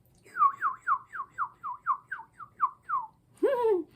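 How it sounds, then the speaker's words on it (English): A big bird squawks ten times in a fast, even series of short calls, followed by one louder, longer, harsher squawk, fairly close in a quiet setting. "This is a big bird."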